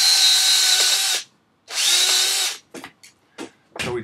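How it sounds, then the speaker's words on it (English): Two loud, steady bursts of a power drill whirring close by, each about a second long, followed by a few short rattling and scraping noises. "So we drill some holes."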